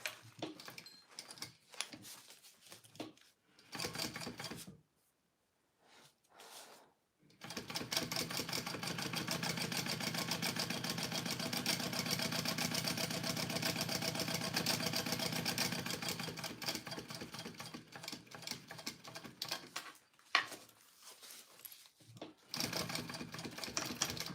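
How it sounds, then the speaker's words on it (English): A sewing machine bastes fabric pieces together, running in one long steady stretch of rapid stitching, bracketed by short stop-start bursts and brief silences, close and moderately loud. "now I'm just basting these pieces together"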